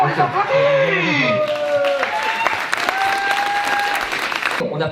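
Applause from an audience at a making-of event for a 48-hour video marathon, steady clapping with laughter and chatter mixed in, a voice carrying over the crowd near the start.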